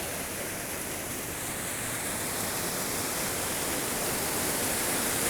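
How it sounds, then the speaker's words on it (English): A waterfall in California's High Sierra pours in a steady, broadband roar that stays loud and close throughout, with no breaks or voices. "Another insane waterfall."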